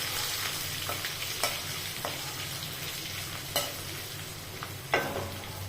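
Grated ginger stirred in a hot pan, a steady low sizzle with several distinct scrapes of the spoon against the pan at irregular intervals, close up and without talking.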